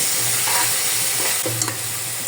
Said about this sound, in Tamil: இதில் இஞ்சி பூண்டு பேஸ்ட் சேர்த்து நல்லா வதக்கி விட்டுக்கலாம்.